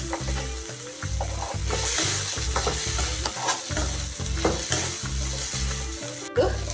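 Frying and stirring in a pan with grains or seeds cooking, a steady close sizzle under repeated scraping stir strokes, with no talk.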